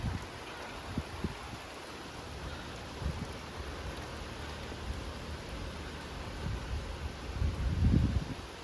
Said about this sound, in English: Just a good little shower. Coming down pretty good.